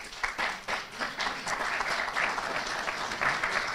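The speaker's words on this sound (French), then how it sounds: "je demande à l'assistance d'applaudir l'Allemagne." Attendees at a speech by Togo's foreign minister applaud in a dense, continuous patter of many hands clapping, fairly close and steady throughout with distinct individual claps standing out.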